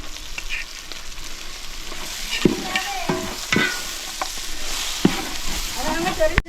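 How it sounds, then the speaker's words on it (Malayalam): Ginger paste sautéing in a large pan for a big batch of home-style chicken curry, with a soft sizzle and repeated sharp scrapes and knocks of a spoon stirring close by. "അടുത്തതായി നമുക്ക് ഇഞ്ചി എടുത്തിട്ട് പേസ്റ്റ് ഇട്ട് കൊടുക്കും ഇത് നമ്മൾ ചെറുതായിട്ടൊന്ന് വഴറ്റിയായിരുന്നു"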